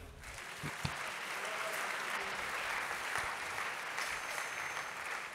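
A church congregation applauds in sustained, dense clapping that fills the room at steady volume, with a few sharper claps standing out early on.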